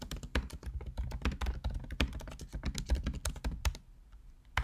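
A computer keyboard is typed on quickly and steadily as a commit message is entered, producing dense close key clatter that thins out near the end.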